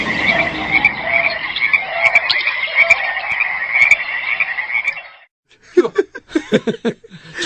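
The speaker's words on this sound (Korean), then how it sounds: "마지막 그 울음소리는 청개구리 울음소리였습니다." A tree frog croaks in a continuous rapid trill for about five seconds, then a short pause and a burst of quicker, choppier croaks, loud and close.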